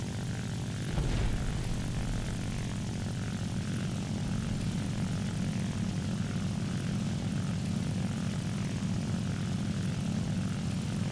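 The propeller engine of a Hawker Typhoon fighter drones steadily and loudly in a flight video game, a continuous low throbbing roar with no breaks.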